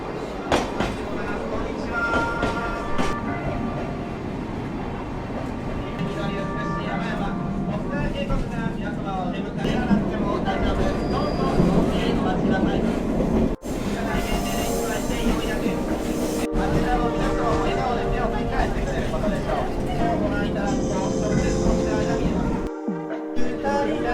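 The Sagano Romantic Train runs near the bamboo forest in Kyoto, a continuous rumble of wheels on rails with rattling carriage and occasional squeal, heard from on board with people talking over it.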